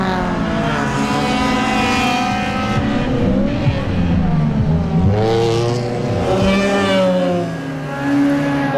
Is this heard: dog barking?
no